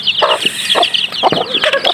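A native heritage hen clucks repeatedly at close range, a loud run of short, throaty clucks in an uneven rhythm with no talking.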